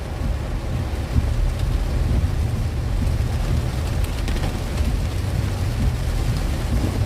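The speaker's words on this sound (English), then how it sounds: "Ooh, some loud thunder out there." Heavy rain pours steadily during a Labor Day storm by a Fort Lauderdale beach, with a low rumble of thunder rolling underneath and wind noise, loud and continuous throughout.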